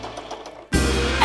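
A sewing machine stitching sequin trim onto fabric: after a soft, quiet patter, the motor suddenly kicks in with a loud, continuous whirring buzz that holds steady to the end.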